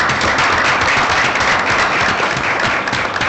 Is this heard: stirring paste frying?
no